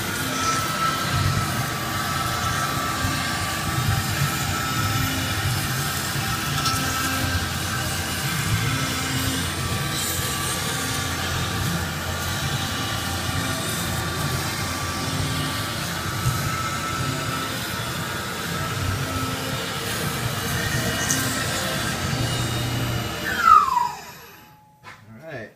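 Tormach CNC mill cutting a UHMW plastic sprocket in two depth passes, a steady broadband machining roar with a continuous spindle whine running for most of the span, then spinning down and stopping near the end.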